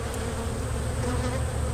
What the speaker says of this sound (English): It's top heavy with bees.